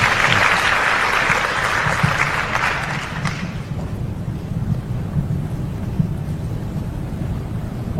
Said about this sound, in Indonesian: Tepuk tangan dulu buat saya yang tadi sudah terlibat.